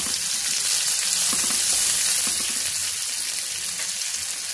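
Jujube fruit dropped into hot oil with tempered spices for a Saraswati puja chutney, a steady loud sizzle and hiss close by, with faint stirring scrapes and no talking.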